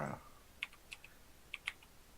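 Sparse clicks of a computer keyboard being typed on during a tabletop role-playing session, a handful of faint, separate keystrokes in a quiet room after a brief voice at the start.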